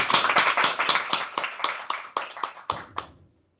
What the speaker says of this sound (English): So let's give him a big clap.